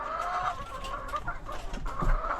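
Chickens in a new coop cluck continuously at moderate distance, a busy overlapping chatter of short clucks from several birds.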